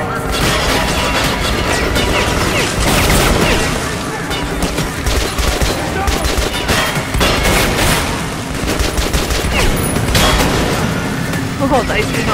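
Enemy gunfire rattles continuously in the Metro: Last Light video game, dense loud volleys of shots and impacts with mechanical clatter, barely pausing across the whole stretch.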